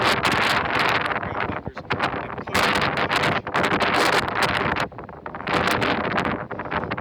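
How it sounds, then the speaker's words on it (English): Strong wind roars across the microphone in heavy, sustained blasts with brief lulls, and a voice speaks faintly underneath. "It's very windy out."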